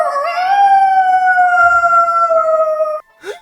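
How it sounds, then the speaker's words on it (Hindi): A jackal howls in a loud, long, sustained note that rises and holds steady, then cuts off, with a short yelp after a brief pause. "ये तो सियार है।"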